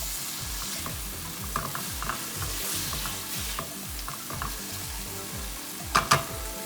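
Tomato cooks in a pan with a soft, continuous sizzle and occasional stirring scrapes. A couple of sharp utensil clinks come near the end.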